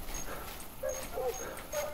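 A distant dog barks and whimpers in the hunting game theHunter Classic, set at Piccabeen Bay. A few short yelps come over outdoor ambience, with someone talking.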